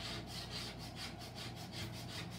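Chalk paste scraped off a surface with a tool, giving a faint, steady, rhythmic rasping scrape in repeated even strokes, close and quiet with no talking.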